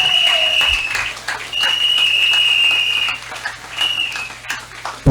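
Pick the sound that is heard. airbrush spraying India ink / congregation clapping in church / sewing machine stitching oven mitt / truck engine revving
congregation clapping in church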